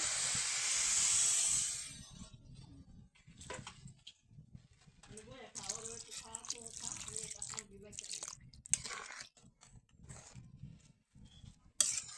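Water poured into a hot pot of traditional Jamalpur bou khudi (rice dish) gives a loud, broad hiss for about two seconds, then fades into quieter sizzling and stirring scrapes with someone talking throughout.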